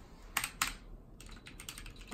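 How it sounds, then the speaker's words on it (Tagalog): Typing on a very clicky computer keyboard, a couple of sharp isolated key clacks followed by a quicker run of crisp clicks, fairly close and with no talk. "Bumili siya ng bagong keyboard para hindi ganun kalakasing sound. Kasi dati yan yung keyboard niya. Sobrang clicky kasi nito eh."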